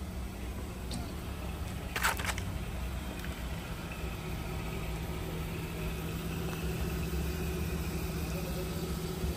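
A 2022 Hyundai Accent's engine idles at a steady low hum throughout, close and even, with a brief clatter of handling noise near the start and no talk over it.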